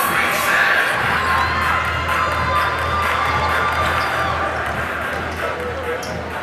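A crowd in a college men's basketball arena cheers and shouts steadily, loud and sustained throughout, with voices mixed into the roar.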